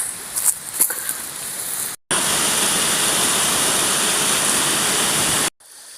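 A river flows through a wooded clough near Gorpley Reservoir, Todmorden: a steady, loud broadband rush of water, preceded by a rougher, uneven stretch and broken by two brief near-silent gaps.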